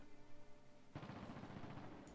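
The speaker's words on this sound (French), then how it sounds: "Allez, des coups de feu." Distant gunfire in the zombie survival video game Project Zomboid: a faint, rumbling stretch of muffled shots that starts suddenly after a quiet moment and rolls on as a low, continuous crackle with no voices.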